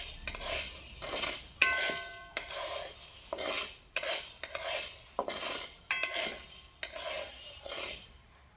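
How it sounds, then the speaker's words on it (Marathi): Urad dal dry-roasting in a pan over low heat, a metal spatula scraping and stirring in steady repeated strokes, close and clear with no talk. "उडीद डाळ भाजू आता. सगळ्या डाळी चांगल्या भाजून घ्यायच्या बारीक गॅस करून."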